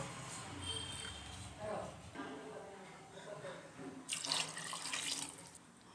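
Water pouring into a bowl of rice for a green pea masala rice, a steady running splash that swells louder toward the end, close by, with a voice speaking over it.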